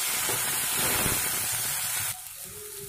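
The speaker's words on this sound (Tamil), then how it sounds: "நல்லா வதங்கட்டும் தக்காளி நல்லா சுருண்டு வரட்டும்" Tomatoes with onions and curry leaves sautéing in a pan for a Tamil vadacurry gravy, giving a steady broadband hiss and sizzle that drops suddenly to a quieter simmer near the end, with no talking.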